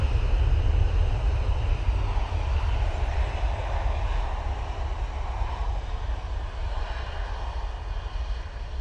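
A Jet2 Boeing 737-800 produces a steady, loud, deep engine roar with a broad rushing hiss, holding nearly constant and fading slightly toward the end.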